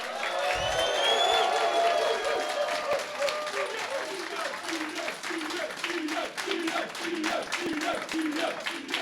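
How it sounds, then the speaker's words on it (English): A crowd at a London World of Warcraft community event gives sustained, dense applause with cheering and shouts, loud and close, as voices rise over the clapping. "I want everybody, the biggest round of applause for Dan"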